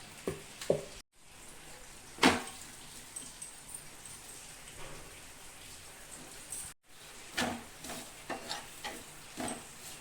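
A rolled paratha fries in oil on a hot tawa, with a steady low sizzle broken by a few sharp crackles and spatters, and two brief cuts to near silence partway through.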